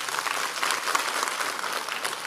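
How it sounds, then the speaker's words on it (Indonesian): A church congregation claps for a child, producing a short burst of fairly close, dense applause that stays even and lively throughout the moment. "Tepuk tangan dulu buat Bernard ini."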